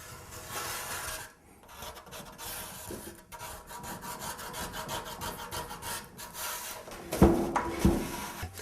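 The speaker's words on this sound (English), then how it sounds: "I can pull this blade to myself and see the real high ridges and bring those down" A blade scrapes down high ridges on painted wood veneer in repeated rasping strokes, a close, steady gritty rubbing that ends with a few sharper scrapes.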